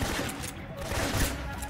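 Rapid gunfire in the Days Gone video game, a dense volley of shots rattling steadily throughout with a voice talking over the shooting.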